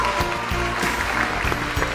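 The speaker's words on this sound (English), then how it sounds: "Let's hear a round of applause for the President of the United States" Applause rises for the President of the United States at a staged event, a dense patter of many hands clapping steadily for two seconds with faint voices mixed underneath.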